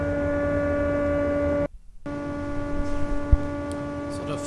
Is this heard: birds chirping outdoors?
no